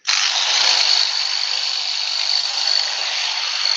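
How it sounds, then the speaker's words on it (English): Angle drill running loudly while shaping a yew burr bowl, a continuous high-pitched whine with grinding hiss, close and sustained without pause. "That's loud. What's loud? The drill."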